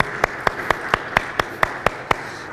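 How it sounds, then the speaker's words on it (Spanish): Single person clapping in a church service, about ten evenly spaced, crisp claps in a steady rhythm, close and fairly loud. "Reciban un caluroso aplauso a todos aquellos que se están comunicando por medio de Facebook Live."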